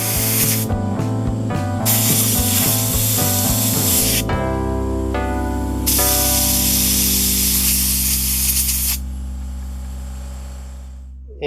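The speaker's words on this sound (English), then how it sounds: "So we're going to blow that hole out right here." Compressed air blasting through the hole in a brake bleeder screw from a Chevy Silverado front caliper: loud, steady hissing rush, fluttering at first and then smoothing out, lasting about eleven seconds before cutting off.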